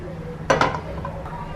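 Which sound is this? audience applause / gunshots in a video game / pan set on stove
pan set on stove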